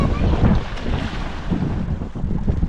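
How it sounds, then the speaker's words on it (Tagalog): Strong northeast monsoon wind (amihan) gusting across open sea near a boat, a steady broadband roar with buffeting swells into the microphone and a low watery rumble, no voices. "Hihip na naman ang amihan."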